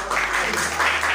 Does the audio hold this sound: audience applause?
yes